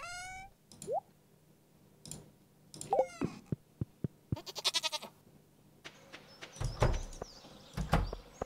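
Stardew Valley farm goats bleating in short, separate calls with pauses between them, alongside clicks and soft game effects, no talking.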